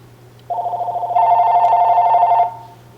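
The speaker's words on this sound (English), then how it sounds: "Sorry, that's the phone." An indoor telephone rings once, a loud electronic trill lasting about two seconds against a quiet room.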